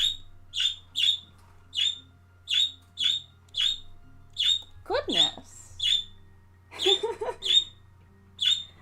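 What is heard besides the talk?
pet birds squawking and chirping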